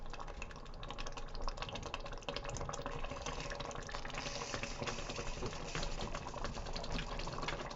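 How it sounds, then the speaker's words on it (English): A pepper mill grinding over a pot of moussaka, giving a steady, continuous gritty crunching that fills the whole stretch at close range, with no talk over it. "Peppermill ASMR."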